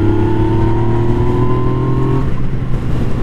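Steady loud engine drone with a low growl from a 2017 Yamaha FZ/MT-09 motorcycle with stock exhaust, holding revs then easing off near the end, close by.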